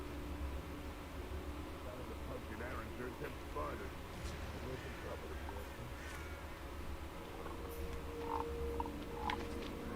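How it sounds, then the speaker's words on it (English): Toads croak repeatedly in a Harry Potter video game, steady amphibian calls over a constant low background hum, with some brief chirps and occasional game sounds mixed in. "Toads. Hello, Toads."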